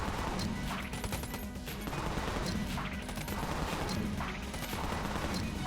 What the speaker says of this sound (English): Here's me dodge rolling and firing as fast as I can.